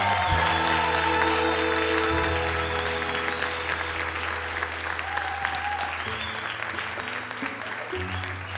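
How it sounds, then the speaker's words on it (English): A big round of audience applause at a Winter Carnival Queen's Pageant in 2018, dense sustained clapping with some cheering over a steady hum of sound equipment, continuing at full strength throughout. "let's give them all one more big round of applause"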